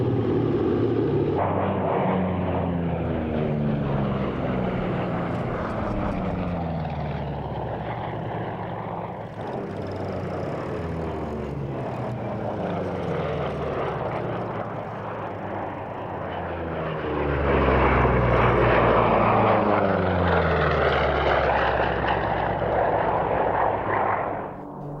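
The Sally B propeller aircraft flies a display pass at the 1996 Duxford airshow trailing smoke from its smoke system, the multi-engine drone rising and falling in pitch as it passes and swelling louder near the end.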